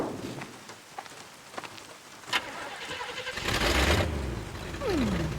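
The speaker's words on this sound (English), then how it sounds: "Engine still purrs nicely." A car engine starts in a Bayonetta cutscene. Quiet ambience gives way to a cranking start and a rising rumble that settles toward idle near the end.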